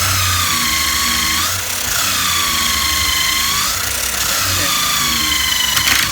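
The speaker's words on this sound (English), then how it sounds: "And then countersink here. Ride the screw. A little further on." Power drill driving a screw into a wooden wine barrel chair, a loud whining motor that rises, pauses and starts again in close bursts.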